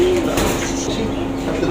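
Pigeons cooing close by in a loft, a steady low murmuring coo running throughout with faint background noise and no talk.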